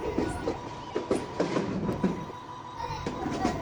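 A train runs at speed onto the main line past a green signal, heard from on board with a steady rolling rumble and a rhythmic clickety-clack of wheels over rail joints throughout.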